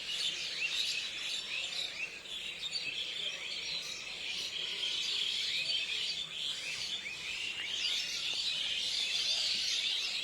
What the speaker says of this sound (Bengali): এত পাখি কিচকিচ কিচকিচ করছে